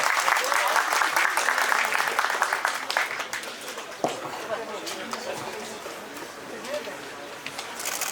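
An audience at a chamber of commerce opening ceremony applauds to welcome a speaker to the podium, steady dense clapping with chatter mixed in, gradually thinning toward the end.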